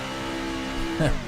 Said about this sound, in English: he tried jerking the wheel around and revving the engine to try and get that thing to flip over before he came to a stop